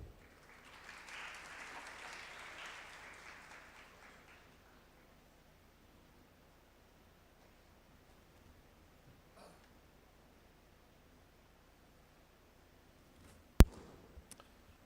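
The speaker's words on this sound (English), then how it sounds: "Please join me in a round of applause for Dr." An audience at an academic conference applauds briefly for a speaker, a soft wash of clapping that fades out within a few seconds. A quiet room follows, broken near the end by a sharp, loud knock.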